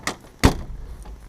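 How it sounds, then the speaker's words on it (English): A Taylorcraft light aircraft door is shut and latched during a preflight walkaround, giving two sharp close clunks about a third of a second apart, then a faint click. "You would check the doors to make sure they latch appropriately"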